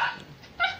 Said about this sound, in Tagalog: Pasensya, guys, yung aso. Maingay.